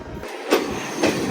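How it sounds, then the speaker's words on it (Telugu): The Konark Express passes close by with a steady rumble of rolling stock, and two sharp wheel clacks land about half a second apart. "ఏం ట్రైన్? కోనార్క్ ఎక్స్ప్రెస్."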